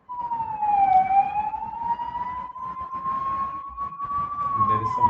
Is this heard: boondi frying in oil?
no